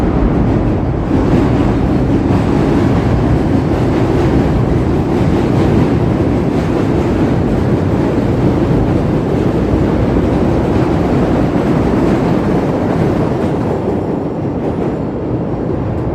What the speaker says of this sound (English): Here's the intersection of the trains here.